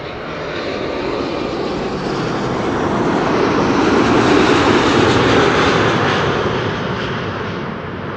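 A KLM Boeing 777-200, flight 751, arriving at Amsterdam Schiphol: a loud, steady jet engine roar that swells to a peak midway and then eases slightly as the airliner passes close by.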